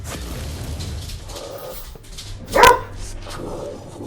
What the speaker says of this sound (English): Oh boy, dogs are playing.